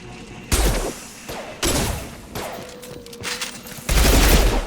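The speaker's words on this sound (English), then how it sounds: "I got a secondary weapon. It's a little submachine gun. It's tearing Praza's squad apart" Submachine gun fire in the video game Mass Effect 2: several loud, sharp bursts of rapid shots with punchy low thumps, separated by shorter stretches of lighter combat noise.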